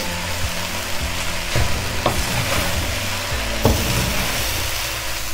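Boiled rice and a fried egg are stirred through in a hot pan, giving a loud steady sizzle broken by repeated scraping strokes of a spoon against the metal.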